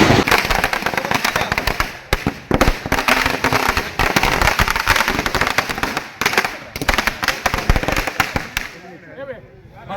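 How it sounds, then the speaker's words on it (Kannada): Firecrackers burst by Congress party workers celebrating a town panchayat win in Hosanagara, a loud, rapid string of cracking bangs that runs continuously for several seconds before cutting off, with faint voices near the end. "ಕಾಂಗ್ರೆಸ್ ಕಾರ್ಯಕರ್ತರು ಪಟಾಕಿ ಸಿಡಿಸಿ"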